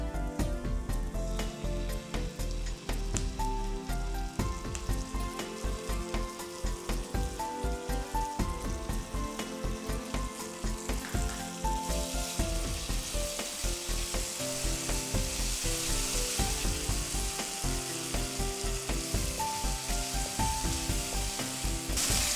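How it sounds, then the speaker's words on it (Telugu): Tomato paste stirred into a frying egg and bread masala gravy gives a dense, continuous crackling sizzle, close and fairly loud, with rapid spattering pops throughout and no speech. "ఈ టమాటో పేస్ట్ని దాన్ని మనం దీంట్లో మిక్స్ చేసుకోవాలి."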